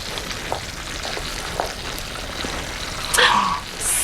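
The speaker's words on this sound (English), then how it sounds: "I'm frying chicken" Steady crackling sizzle of chicken frying in hot oil, close up, with a few louder pops and faint clatter near the end.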